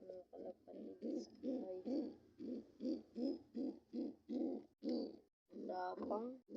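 Pigeons cooing in a steady series of soft, rounded hoots close by, repeated roughly every half second with a brief pause near the end.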